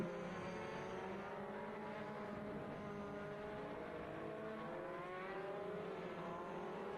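Limited late model race cars roar around a River City Speedway oval during a heat race, several engines droning and revving together in a constant, loud, layered whine with no break.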